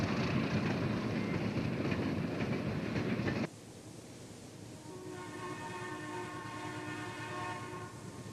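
An RS2 diesel locomotive, number 213, switching beside an abandoned coal dock, first as a loud rumbling engine roar, then after an abrupt cut a quieter chugging idle topped by a sustained horn-like tone.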